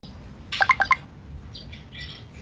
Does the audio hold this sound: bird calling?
yes